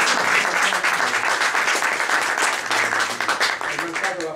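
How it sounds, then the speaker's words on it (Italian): Audience applause for the president at an Italian award ceremony, continuous dense clapping from a room full of people, loud and sustained. "Un applauso per il presidente Bruno Mancini"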